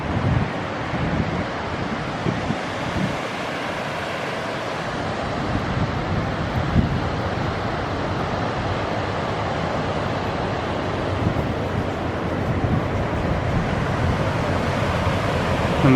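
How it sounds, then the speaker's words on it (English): Water pours over the weir at Goring Lock on the Thames, a steady, full rushing roar with some wind buffeting the microphone and no voices. "And that's the weir."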